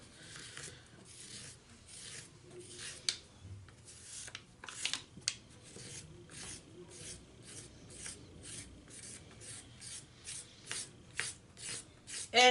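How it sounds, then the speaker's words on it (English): A tool scrapes underglaze off a carved clay surface in repeated light, short strokes, a faint, close rasping rhythm with a few soft bumps and no talk. "So I'm just going to start scraping."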